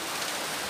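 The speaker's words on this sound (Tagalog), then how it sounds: "Ayan na yung ulan na malakas." Heavy rain pours down outside a motorcycle repair spot, forming a steady, dense broadband hiss with no breaks over a brief moment.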